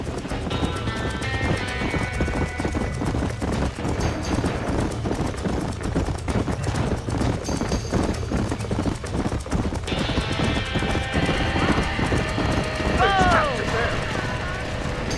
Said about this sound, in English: ¡Los caballos!